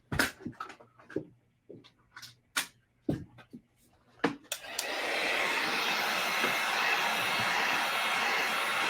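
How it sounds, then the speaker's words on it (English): A heat gun blows a steady, loud broadband whoosh to dry alcohol ink on a tumbler, switching on midway after a run of sharp clicks and taps and then holding constant to the end. "I'm going to grab my heat gun and I'm going to dry this real quick to move this process along faster."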